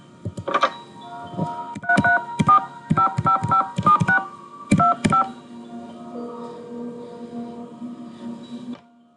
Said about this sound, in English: the only other thing I know to do at the moment is call the phone number